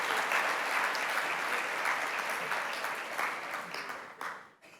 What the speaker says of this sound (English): A big round of applause for my university,